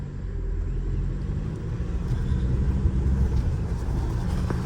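A car engine driven by a novice learner, its low rumbling drone steady and close for the whole stretch, rising slightly in strength toward the end as the accelerator is pressed.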